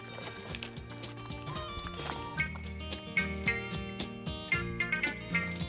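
Horse hooves clip-clop in a western film, a steady run of rhythmic hoofbeats that are moderately close and sit over a tonal musical backdrop.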